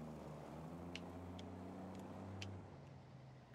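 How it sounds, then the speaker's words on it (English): A truck's Jake brake in BeamNG.drive ticks out a few sharp, regular clicks over a low, steady diesel engine drone that slowly falls in pitch, with no voices. "And the Jake brake is that clicking thing you were hearing"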